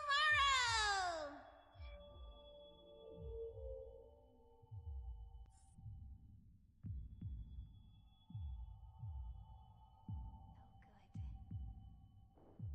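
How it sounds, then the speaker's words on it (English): A heartbeat effect in the video game Honkai: Star Rail, low thudding pulses repeating steadily for several seconds after a falling synth sweep, with faint ambient tones above and no talk. "As if I can hear the sound of my heart beating."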